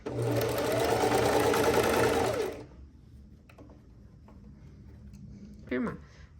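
A sewing machine runs in a steady fast whir while stitching the seam of pajama pants, then stops after a couple of seconds, leaving quiet handling sounds and a brief squeak, close by, with no talking.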